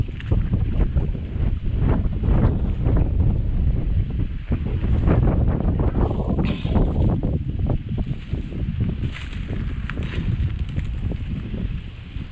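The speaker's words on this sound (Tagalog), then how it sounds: "Nagsisimula na naman ang hangin mga ka-art vlog." Strong wind buffets the microphone in heavy, roaring gusts, a loud low rumble that surges and eases without pause.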